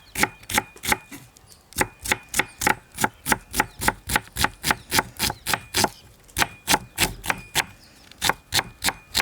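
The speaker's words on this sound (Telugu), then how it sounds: "ఉల్లిపాయలు మరీ చిన్నవి కాకుండా మరీ పెద్దవి కాకుండా ఈ విధంగా కోసుకోవాలి" A knife chops onions into medium-sized pieces on a board with quick, steady, evenly spaced strokes, about two or three per second, close and crisp, with no talking.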